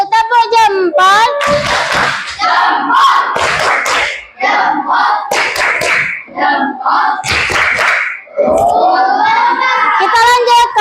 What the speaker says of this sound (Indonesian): Ayo tepuk jempol dulu. Tepuk jempol.